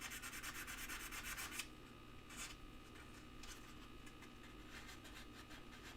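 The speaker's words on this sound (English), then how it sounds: "Do a little bit with the sandpaper" Sandpaper rubs across a wooden UFO piece during finishing, with quiet, close, rhythmic scratchy strokes, denser at the start and then continuing in lighter, intermittent passes.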